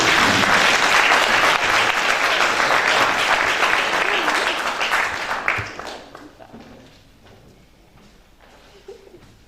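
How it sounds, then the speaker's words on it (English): An audience at a science event in Prague applauds the winner of the Czech competition, a loud, dense round of clapping with cheering that tapers off after about six seconds, leaving a quieter room with scattered noise. "So, a big round of applause."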